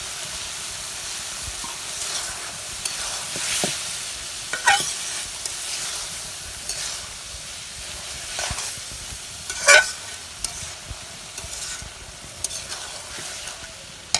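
Fish simmering in a pan of curry with a little water, a steady soft bubbling sizzle with occasional stirring scrapes and brief louder pops, close and continuous with no voices.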